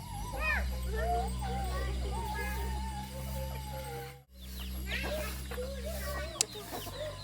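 Chickens and ducks cluck and call around a rural village home, a close, busy mix of bird sounds under a person talking, with a low steady hum in the background.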